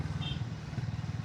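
Harley-Davidson X440 T roadster motorcycle being ridden, its engine giving a steady low rumble with a faint whine throughout, close and continuous with no talk.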